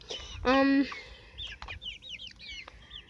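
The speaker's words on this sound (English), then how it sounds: "And then there's my two little roosters." A small rooster gives one short, loud clucking call near a feeder, then faint chirps from small birds carry on nearby.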